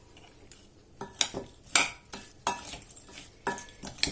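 Meat is stirred by hand in its marinade in a bowl, giving repeated close wet clicks and scrapes with an irregular rhythm, and no one speaks.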